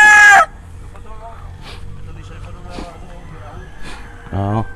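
A large rooster crows close by in a loud, brief burst near the end, with a shorter call at the very start, while a person talks throughout.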